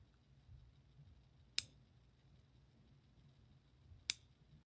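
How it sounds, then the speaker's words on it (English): Two crisp snips of small scissors trimming a false lash cluster, well apart and alone over a quiet background. "if you're going to snip a lash"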